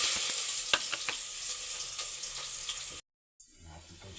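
Garlic sizzling in a small amount of hot cooking oil while sautéing opo squash, a steady bright frying hiss close up that cuts out briefly near the end.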